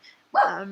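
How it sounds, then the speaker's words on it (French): A dog gives a single sharp bark-like yelp, close and fairly loud, rising suddenly after a moment of near silence and trailing off in a voiced tail. "C'est mon chien."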